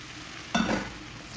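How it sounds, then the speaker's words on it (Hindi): A single quick scrape of a spoon stirring flour into butter in a hot pan for white sauce, over a soft, steady background sizzle. "इसको बस मिक्स करना है ताकि गुठलियाँ ना पड़ें मैदे की"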